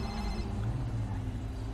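A phone rings during a call in the GTA video game, a repeated electronic ring tone heard faintly beneath a steady background hum.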